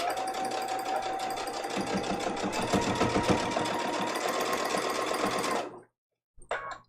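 A sewing machine runs a continuous quarter-inch seam around a quilted square trivet with thick batting, stitching steadily and close for nearly six seconds before stopping, then a brief restart.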